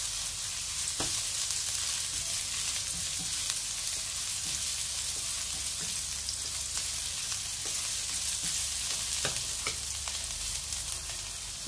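Ginger sizzles in a hot pan as adobong atay at isaw ng baboy is prepared, a steady broadband frying hiss with a few sharp spatter pops and occasional stirring, fairly close and without speech.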